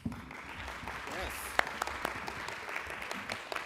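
A small conference audience at an affordable-housing event claps briefly, a soft, thin patter of hands heard from a distance, with a few sharper claps standing out.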